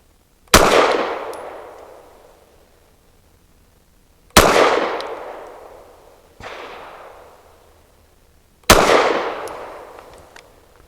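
Four sharp, loud pistol shots from a BRG9 Elite Gen 2 handgun, fired singly at irregular intervals of about two seconds, each with a ringing, decaying tail; the third shot is somewhat quieter, and no one speaks.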